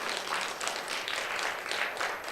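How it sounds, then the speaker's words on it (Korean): A church congregation at a New Year revival service claps together in a brief, even burst of applause, a soft wash of many hands heard at a moderate distance with no talking over it. "이때는 박수가 나와야 돼요."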